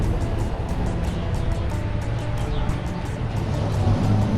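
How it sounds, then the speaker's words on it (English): Traffic on a street in Cabo San Lucas, near Marina Mercado, heard while walking: a steady, loud rumble of passing cars fills the whole stretch, with no voices over it. "Watch out for cars."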